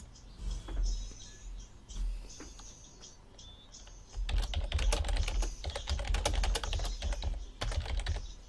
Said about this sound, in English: Hang on, I've typed in the question again.